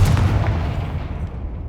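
A Confringo fire spell explodes in the Hogwarts Legacy video game, a heavy, booming blast with a sharp onset that rumbles on and slowly fades over under two seconds, loud and close with no talk.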